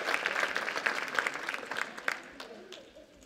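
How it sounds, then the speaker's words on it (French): A church congregation claps together at a Sunday service, a dense wave of applause under some murmuring voices, fading out toward the end. "On peut l'applaudir."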